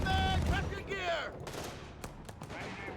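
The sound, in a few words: 30 cal machine gun fire, Company of Heroes 3 video game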